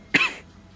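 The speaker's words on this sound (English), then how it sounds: "Ugh, still coughing." A single sharp cough bursts out close to the mic during a League of Legends shoutcast, with a short rasping tail, then quiet.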